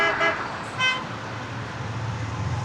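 Car horns honk at a crossroads where traffic is held up by a young driver absorbed in her phone: two short loud toots in quick succession, followed by a steady low hum of idling road traffic.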